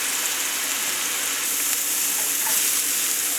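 Fruit caramelizing in a hot pan for a piña colada shortcake, sizzling and frying steadily with a close, even crackling hiss and no voices.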